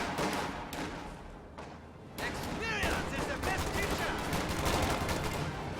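Rifle and machine-gun fire crackle in repeated bursts during an infantry clash in a real-time strategy game, with grenadier squads and a half-track in the battle, the shooting dense and layered with game sounds.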